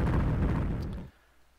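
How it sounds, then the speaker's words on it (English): Missiles strike an enemy ship in the space game Escape Velocity Nova, a dense rumbling blast of explosions that holds loud for about a second, then cuts off to near quiet. "Looks like those missiles are hitting him."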